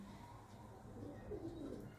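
Pigeons coo softly in a loft in Punjab, low throaty calls rising and falling over about two seconds, faint against background hum.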